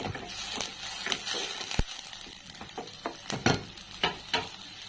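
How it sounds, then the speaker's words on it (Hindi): Spice masala with a little added water roasting in a pan over a medium flame, a soft sizzle broken by repeated scraping strokes and clacks of a spoon, close and fairly loud, no voices. "वाटर ऐड करके इसको हम मीडियम फ्लेम पे थोड़ी सी भून लेते हैं।"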